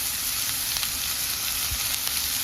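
Vegetables fry in oil for semiya rava idli, with a dense, steady, close hiss of sizzling throughout, dotted with faint soft crackles and no talking.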